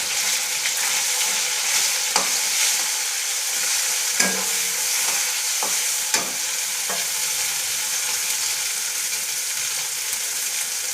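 Spice paste of ginger, chili and cumin with turmeric frying in a pan, a steady close sizzle broken by occasional scraping stirs and light knocks of the spoon, with no voices.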